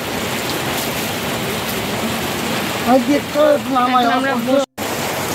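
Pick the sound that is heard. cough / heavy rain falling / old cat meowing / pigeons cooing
heavy rain falling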